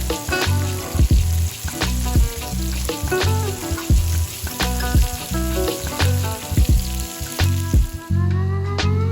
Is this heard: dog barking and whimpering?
no